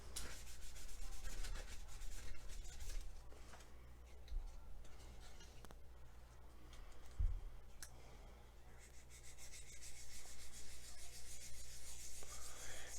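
Sandpaper rubs back and forth over a plastic part from a 1/25 scale AMT 1953 Ford Service Truck model kit, a close, dry scratching in uneven strokes with short pauses and no talking.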